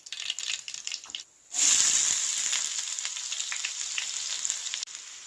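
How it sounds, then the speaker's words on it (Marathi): Mustard seeds hit hot oil in a pan with a sudden loud burst of sizzling and popping that settles into a steady close crackle, following a brief quieter moment. "तेल तापलं आहे आता मी राई टाकते"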